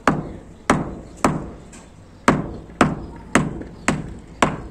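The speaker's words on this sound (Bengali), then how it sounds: "সর্বপ্রথম এই মাটিটা গুঁড়ো করতে হবে।" Soil being pounded into powder to make pigeon grit, about nine sharp, evenly spaced thuds that each ring briefly and fade, loud and close with no talking.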